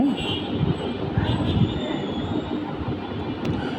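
A crowded train rumbles along steadily with low rolling noise and faint metallic squeal, heard from inside a carriage; no clear talk.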